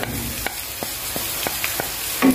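Spice paste sizzles in hot oil, a steady frying hiss broken by several sharp spatula scrapes and taps against the pan while it is stirred, close and fairly loud.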